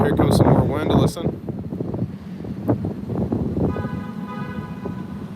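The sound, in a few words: strong wind during a thunderstorm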